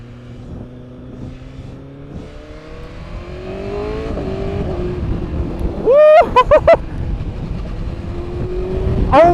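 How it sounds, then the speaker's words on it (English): A BMW S1000RR sport bike accelerates on its first ride, the engine note climbing steadily as it gets louder, with a few sharp high revs and gear changes near the end, heard close and alone. "first ride on the S1K"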